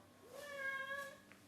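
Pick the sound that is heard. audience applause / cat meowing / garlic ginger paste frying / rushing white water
cat meowing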